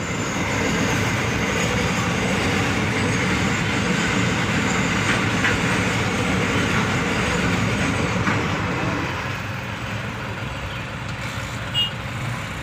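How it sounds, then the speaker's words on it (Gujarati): A two-kilometre freight train rumbles past close by at a level crossing, a steady heavy roar of wagons rolling on the rails that slowly eases toward the end. "બે કિલોમીટરની ટ્રેન છે।"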